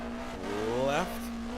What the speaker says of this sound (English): Accelerate now, hard out of the hairpin.